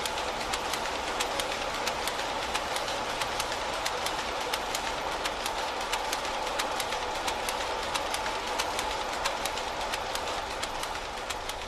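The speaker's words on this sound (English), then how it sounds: "there's only 2 looms actually working at this moment in time" Weaving looms run in a textile mill weaving shed, with a steady, loud mechanical clatter of rapid regular beats and a constant rumble throughout, with no talking.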